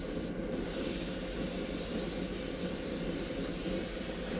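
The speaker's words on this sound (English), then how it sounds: "We're just doing some airbrushing" An airbrush sprays paint onto a skull with a continuous close hiss of air that stays loud and even, with a very brief dip near the start.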